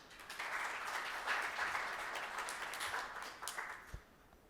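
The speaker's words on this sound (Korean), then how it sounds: "큰 박수로 맞아주시기 바랍니다" An audience applauds to welcome a foundation chairman at a solidarity fund's 2021 report meeting in a large hall. Steady, crowded clapping sounds somewhat distant and soft, then fades out near the end.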